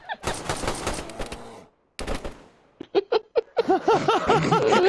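Bursts of rapid gunfire in the video game DayZ, shooting at a bear, come in a dense volley, break off briefly, then return as separate shots, with laughing and excited voices mixed in.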